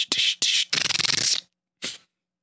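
A man vocally imitates a dog with long nails skittering on a hardwood floor: a few quick, hissy clicking bursts, then a rapid rattling run of taps, a pause, and one last short scrape, all close and crisp.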